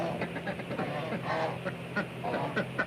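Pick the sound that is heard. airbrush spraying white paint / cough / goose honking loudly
goose honking loudly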